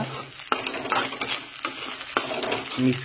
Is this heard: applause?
no